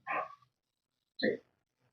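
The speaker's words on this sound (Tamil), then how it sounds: "நாய்" Two short, sharp dog barks separated by about a second of silence, close and fairly loud.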